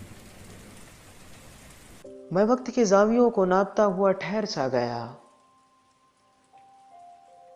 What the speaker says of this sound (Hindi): बारिश की रफ्तार और भी तेज हो चुकी थी।